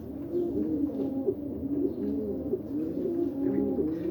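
Racing pigeons in a loft coo softly and continuously, overlapping low rolling calls close by with a faint background hum and no talk.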